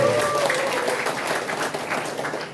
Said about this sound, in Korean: 박수 좀.